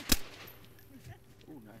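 A single sharp gunshot cracks out near the start in the survival game DayZ, followed by quiet ambience with faint voices in the background.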